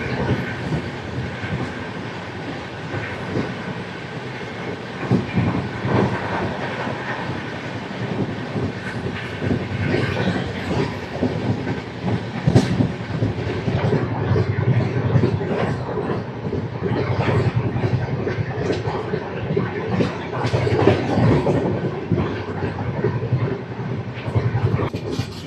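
Janmabhoomi Superfast Express 12805 on the Visakhapatnam–Lingampalli run rolls along the track near Guntur, with a loud, steady rumble and wheel clatter that continues without a break and no talking.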